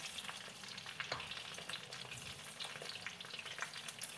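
Potatoes sizzling and frying in a pan for roasted chicken, a steady close crackle with light stirring scrapes and a brief spoken word.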